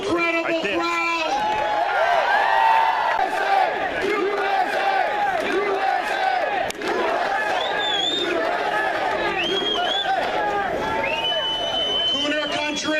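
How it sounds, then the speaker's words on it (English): Large outdoor political rally crowd in Boston shouting and cheering continuously, loud and close, with overlapping yells and whoops and no clear individual speech. "Look at this incredible crowd!"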